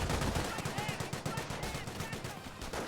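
Two Bren guns firing in a Company of Heroes 1 battle, rapid rhythmic bursts of automatic fire, steady and fairly close, layered over general battle noise.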